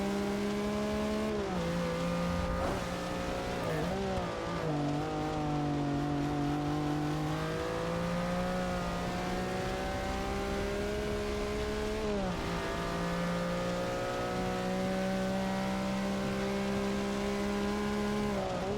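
A race car in Forza Motorsport 6 drives through a wet-weather race, its engine revving up and down as it works through the gears, with a brief tire squeal, loud and close with no talking.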